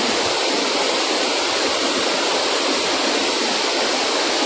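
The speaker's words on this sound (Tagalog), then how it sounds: "Tingnan nyo naman kung gaano kalakas yung tubig niya, oh." A Philippine waterfall pours into a large, fast-flowing river, giving a loud, continuous roar of rushing water nearby with no voices.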